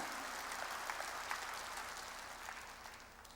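Congregation clapping during a church worship service, a short burst of steady applause that fades slightly toward the end.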